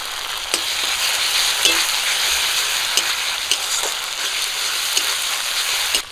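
Green chili and onion sizzle steadily in hot oil with cumin, ginger and garlic paste, a dense continuous frying hiss broken by a few sharp crackles and stirring clinks, close and loud, with no voices.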